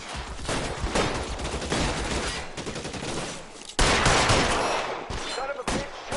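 Dense video-game gunfire from LA Noire, a rattling fusillade of overlapping shots and bursts that runs throughout, loud and close, with a sharp burst partway through and faint shouting mixed in.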